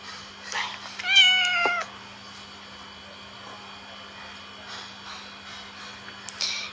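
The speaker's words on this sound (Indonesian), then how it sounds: "Jenis kucing British. British Shorthair." A British Shorthair cat gives one clear, close meow with a rising, bending pitch, then the room falls quiet apart from a steady low hum and a few faint rustles.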